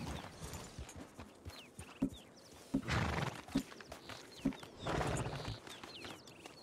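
Horse whinnies and clopping hooves from the video game Red Dead Redemption 2 Online on PS5, with several sharp hoof thumps and bursts of neighing over a busy in-game background.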